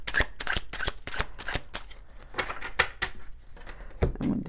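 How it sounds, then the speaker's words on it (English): Tarot cards are shuffled and cut with a rapid run of crisp, snapping flicks close by, thinning into scattered taps and ending with a soft rustle, and no voices. "Let me just cut these."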